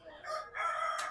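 A rooster of the Sindhi breed crows once at a market in Nushki, a short, clear call rising in two strained phrases, fairly close and alone over quiet background.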